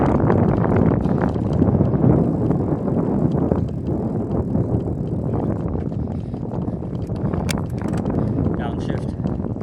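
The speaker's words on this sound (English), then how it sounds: "This is me just cycling" A bicycle is ridden outdoors at Huddle Park, with steady rushing wind buffeting the microphone, rattling from the bike, and a rider talking throughout.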